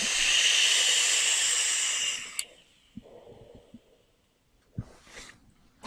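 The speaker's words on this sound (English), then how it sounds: "Let me go ahead and take a vape." A long hissing inhale draws air through the airflow slots of an MGNT magnetic rebuildable atomizer by Shado Vapor, followed by quieter breathing, a soft exhale and a few small clicks and taps.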